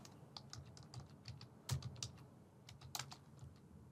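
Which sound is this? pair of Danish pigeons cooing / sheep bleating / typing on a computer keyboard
typing on a computer keyboard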